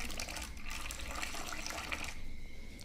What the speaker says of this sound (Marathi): असं पूर्ण भांड्यांमध्ये पाणी टाकून घेते.